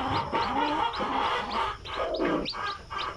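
A hen clucks repeatedly while chicks peep in quick, high chirps close by, a busy mix of soft clucks and tweets.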